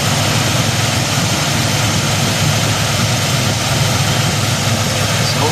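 A Delta 88 car engine running steadily right after a carburetor overhaul, a continuous loud rumble with an even, unbroken drone throughout and no talking.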